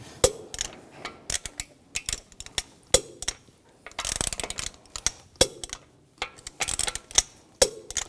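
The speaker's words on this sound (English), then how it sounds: "Now I'm going to torque the lug bolts to 90 foot-pounds in a cross pattern to tighten the wheel down evenly." Torque wrench tightening the lug bolts on a 2004-2009 Audi A4 Quattro wheel to 90 foot-pounds in a cross pattern: a series of sharp, close mechanical clicks and ratcheting rattles arriving in irregular bursts, with no talking.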